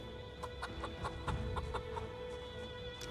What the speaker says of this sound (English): What are you? You're a hen.